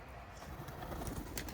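Soft cooing of tumbler pigeons, faint and close, with a low background hum and no talking.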